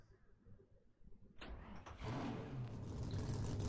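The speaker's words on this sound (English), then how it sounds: "Drivers, start your engines." Race car engines in the NR2003 racing game starting up: a quiet rumble, then a sudden whine and roar around the halfway point that builds into a sustained loud engine drone.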